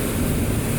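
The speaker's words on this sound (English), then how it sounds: "Look at those jet ski waves. They're crazy." Waves churned up by passing jet skis, a continuous broad rushing wash of water close by, mixed with wind buffeting the microphone, with no voices.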